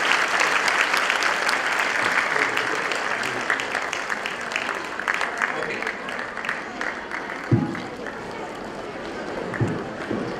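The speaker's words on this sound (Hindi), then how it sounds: "बार जोरदार तालियां बजाएं।" A school audience in Delhi bursts into loud, dense applause that slowly thins into scattered claps. A few sharp knocks and murmured voices come through as it fades.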